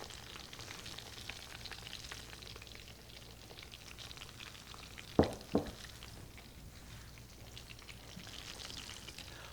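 Shrimp frying in a pan for shrimp parmigiana makes a quiet, even sizzle throughout. Two quick utensil scrapes against the pan interrupt it midway, with no talking.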